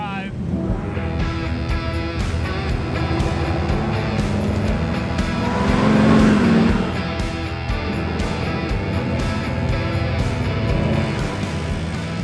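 A MORR off-road wrecker climbs a steep off-road slope in two-wheel drive, its engine droning steadily and swelling louder mid-climb before easing, heard at moderate distance with people talking over it.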